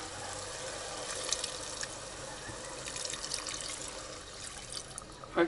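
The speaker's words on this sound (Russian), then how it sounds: "Now we add some water." Water runs and splashes into a cooking pot for aloo matar in a continuous stream, fairly close, with faint clinks near the end.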